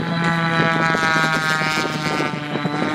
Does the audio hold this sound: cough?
no